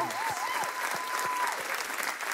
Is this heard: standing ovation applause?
yes